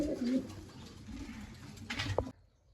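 Pigeons coo softly in low, rounded murmurs against a quiet background, ending with a brief louder sound before the clip falls nearly silent.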